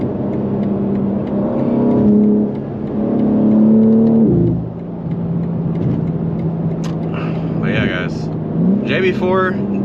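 A BMW G80 M3 running a JB4 tune at about 700 horsepower pulls hard, its engine note rising loudly through two strong surges before settling to a steadier drone and quieter road noise.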